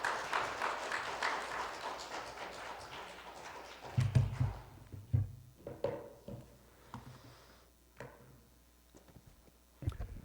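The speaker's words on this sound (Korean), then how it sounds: "우리 박수로 환영하겠습니다" A congregation at a Wednesday church service applauds to welcome a pastor and a missionary, with a dense round of clapping that fades within a few seconds, followed by scattered knocks and footsteps in the quiet hall.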